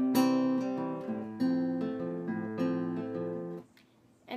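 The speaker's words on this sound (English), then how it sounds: "start out with this picking pattern that sounds like this." Acoustic guitar picking pattern from the intro of a song: bright, clear strummed and picked chords in a steady repeating rhythm, close and alone, ringing out before fading.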